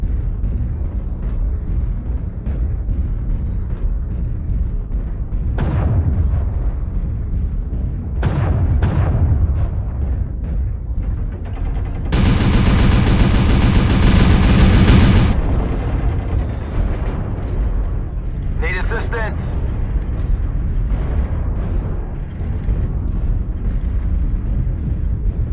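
In MechWarrior Online, mech combat with PPC weapon fire, explosions and heavy weapon bursts rumbles loud and close throughout. A long, dense burst of fire lands near the middle, with scattered booms and crackles around it.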